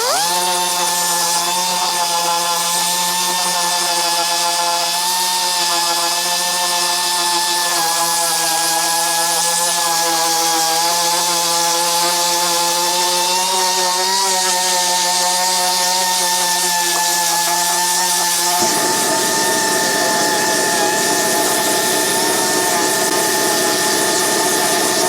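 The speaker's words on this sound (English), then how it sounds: "I'm just sanding it off, trying to get it smooth" Steady abrasive grinding from sanding cracked paint off a BMW motorcycle fender, a loud continuous power-tool whine that holds for the whole stretch and drops in pitch near the end, with no talking.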